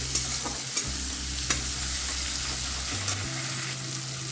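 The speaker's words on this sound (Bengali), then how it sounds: "এবারে অ্যাড করে দেবো জিরে গুঁড়ো আর একটু সামান্য হলুদের গুঁড়ো দিয়ে একটু ভালোভাবে মশলাটাকে কষিয়ে নেব" Ground cumin and a little turmeric being sautéed into a masala in a pan with tomato, a steady close sizzle broken by a few sharp scrapes of a spoon, no voices.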